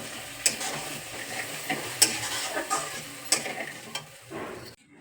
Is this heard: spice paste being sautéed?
yes